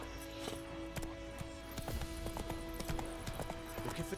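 Roach the horse gallops in a video game, steady clip-clop hoofbeats thudding in quick rhythm over a constant music and ambient bed, close and clear throughout.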